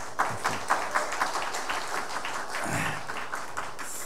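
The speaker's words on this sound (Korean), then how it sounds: "은혜로 찬양해 주신 우리 성가대원들에게 다시 한번 감사의 박수 하겠습니다" A church choir receives applause from a university chapel congregation, steady clapping sustained across the whole stretch at moderate distance with a low murmur beneath.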